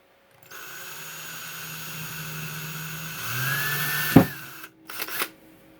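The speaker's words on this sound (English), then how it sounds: "drill a small hole into it" A small electric drill whirs steadily for a few seconds while drilling a small hole in plastic, its pitch shifting as it bites, then stops with a clatter and short bursts of handling noise.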